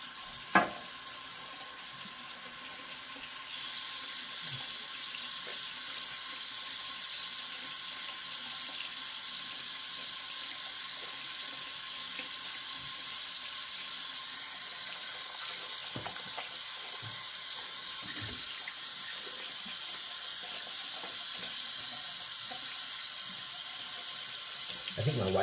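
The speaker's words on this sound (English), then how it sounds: "Let's do the old face wash." Steady stream of tap water runs into a sink for the whole stretch while someone splashes and washes their face, with faint intermittent handling sounds under the constant hiss.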